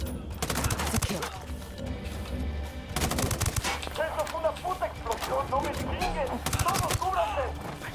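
Gunfire in the tactical shooter Ground Branch crackles in loud, dense bursts, with a heavy volley near the start, another around the middle and a third toward the end, while voices talk over it.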